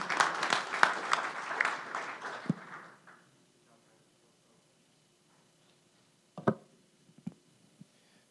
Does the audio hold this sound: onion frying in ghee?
no